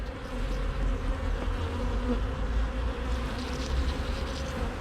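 Honey bees buzzing around an opened honey hive during a frame inspection, a dense, steady droning hum that is loud and close and continues without pause, with no talking.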